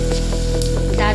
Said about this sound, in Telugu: తాలింపు వేగింది.